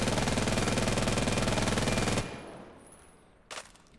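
AK-12 rifle in the VR game Vail VR firing a sustained rapid automatic burst of about two seconds, loud and close, then stopping abruptly, followed by a short mechanical clack.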